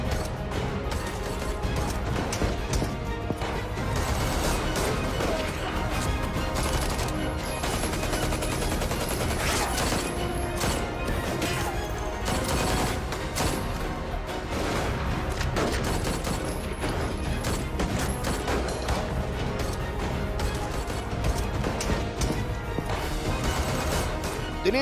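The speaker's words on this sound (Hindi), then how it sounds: "बस इसके बाद क्या था, एक के बाद एक फायरिंग हो रही थी।" Gunfire sound effects for a reconstructed police shootout with gangster Anand Pal: a loud, dense barrage of shots and crashes that pounds on without letup for the whole stretch.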